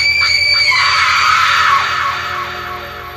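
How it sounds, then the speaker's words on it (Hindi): A witch shrieking in pain in a horror story: one loud, sustained high scream with wavering pitch that swells, then slowly fades over a low rumbling background. "चुड़ैल दर्द से चिल्ला रही थी।"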